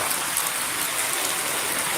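A torrential rain shower at night roars as a constant, close wash of falling water and spatter on surfaces, steady and loud with no speech.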